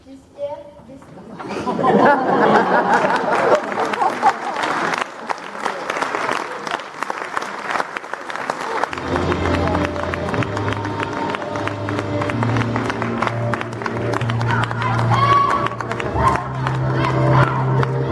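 An audience at a school show by 3ème students applauds loudly with cheers and crowd chatter, and voices are heard amid the noise. Partway through, sustained music rises beneath the continuing clapping.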